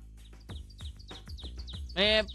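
Bird chirping inside a video game, a run of short repeated tweets about twice a second, then a louder warbling call near the end, with talk in between.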